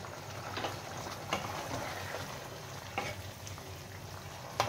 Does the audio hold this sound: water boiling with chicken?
yes